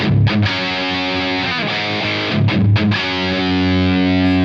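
Electric guitar played through a Sonicake SHARK British high gain distortion pedal in normal mode, thick compressed distorted chords sustaining loudly with a few short breaks between strums.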